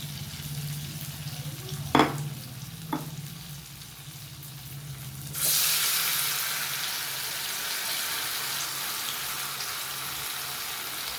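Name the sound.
frying lentil-soybean dhoka pieces in hot oil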